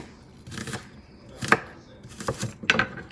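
A knife chops food on a cutting board in four quick, separate bursts, close and fairly quiet, with faint background room noise between strokes.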